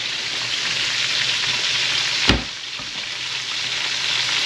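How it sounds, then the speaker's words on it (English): Celery, bell pepper and onion frying in a hot pan give a steady, close sizzle with a faint stirring scrape, plus one brief sharper clack partway through. "We just frying up those vegetables really quick."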